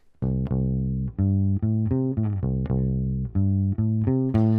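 A clean electric bass plays a bouncy, syncopated line of plucked notes, moving steadily between pitches in a groove, alone and up close.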